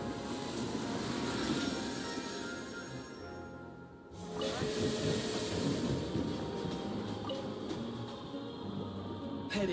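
Steam hiss from a train in a video game, a broad continuous rushing that briefly drops out and then returns, steady and loud without speech.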